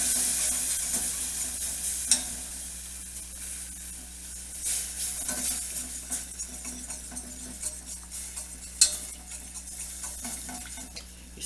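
Chicken stock is poured into a hot pan and whisked with a steady hiss and sizzle, punctuated by occasional clinks and scrapes of the whisk against the pan, nearby and without speech.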